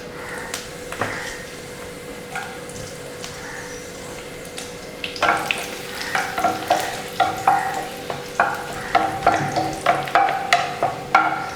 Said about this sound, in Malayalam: ഇനി നമുക്ക് അതിനകത്തോട്ട് എടുത്തു വെച്ചിരിക്കുന്ന ഉണക്കമുളക് ഇട്ട് കൊടുക്കാം